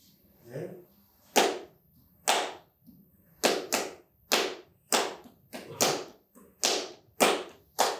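Sharp, crisp flamenco palmas in the Jerez style, a dozen or so loud hand claps in a strongly marked rhythmic pattern, close and dry, with a brief voice at the start.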